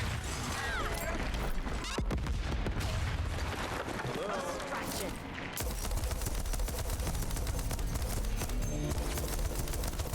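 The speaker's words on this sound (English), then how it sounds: "I'm just tossing grenades at him at this point." Chaotic Deathloop combat with grenades and gunfire, a constant loud wash of shots and blasts that briefly drops out near the middle before resuming, with busy game effects throughout.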